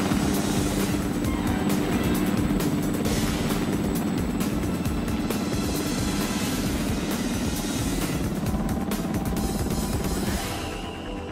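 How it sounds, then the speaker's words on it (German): A helicopter flies from the summit of the Große Zinne back to the foot of the north face in the Drei Zinnen, a steady loud rotor and engine drone that continues without break and eases slightly at the end. "Vom Gipfel der großen Zinne flog der Hubschrauber Bubendorfer zurück zum Wandfuß"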